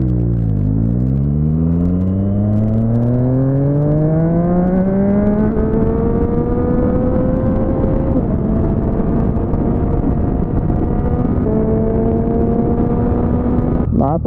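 A car engine revs up and accelerates steadily through rising gears, loud and close throughout, with a continuous low rumble and climbing harmonic pitch and no talk over it.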